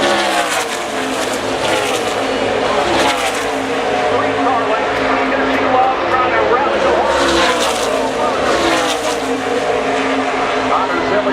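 NASCAR Xfinity Series race cars, including a Chevrolet, roar around Pocono Raceway in a continuous loud engine drone with shifting pitch as they pass, under a race commentator's talk.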